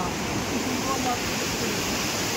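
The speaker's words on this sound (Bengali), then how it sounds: "এত সুন্দর স্রোতে শব্দ শুনতে পাচ্ছি" River water rushing over rocks in a forested valley at Kalimpong, a steady broadband roar of flowing current, moderately loud and unbroken throughout.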